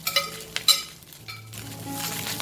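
Chilli garlic vegetable fried rice stir-frying in a pan, with a close sizzle under a few sharp clinks and scrapes of a utensil against the metal, no one speaking.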